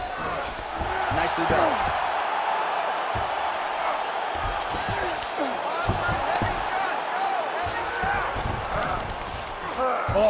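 An arena crowd at a UFC bout roars and cheers continuously, a broad wash of voices with scattered shouts, while a commentator talks over it.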